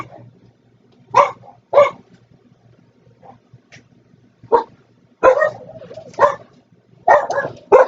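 Dogs bark indoors in a kitchen, a few sharp, close barks arriving irregularly with some whining yips in between, separated by quiet stretches of low background hum.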